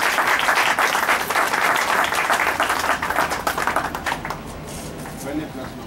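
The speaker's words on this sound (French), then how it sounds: "J'aimerais bien que vous les applaudissiez." Audience applause at a political gathering launching a women's opposition coordination, loud dense clapping filling the room and tapering off toward the end, with some voices mixed in.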